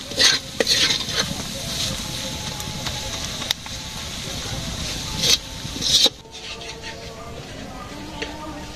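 Spice paste sizzles in a pan in a village kitchen while a utensil scrapes and stirs it, with sharp clinks against the metal and a steady frying hiss throughout.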